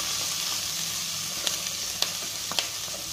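Green chillies and curry leaves fry in a pan for a foxtail millet and sago khichdi, giving a loud, continuous close sizzle broken by a few crisp pops and spatters.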